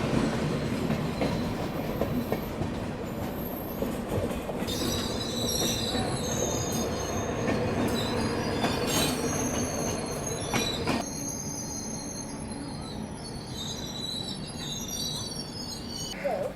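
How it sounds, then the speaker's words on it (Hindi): The Secunderabad-Danapur Express passes at a crossing, its wheels grinding and squealing against the rails in a long, loud, close rumble with rhythmic clatter. Sharp metallic screeches rise and fade as the carriages roll by. "तो ये दानापुर की तरफ जाने वाली सिकंदराबाद दानापुर एक्सप्रेस है।"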